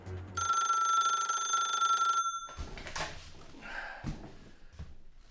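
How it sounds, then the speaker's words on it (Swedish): A telephone bell rings loudly and continuously for about two seconds, then stops, followed by clattering and knocking as the handset is picked up, close and clear with no talking. "Ja, då får jag prova att ringa in och kolla."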